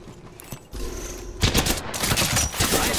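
Gunfire in Apex Legends: scattered shots at first, then a sustained, dense burst of rapid firing that stays loud to the end, with no talking over it.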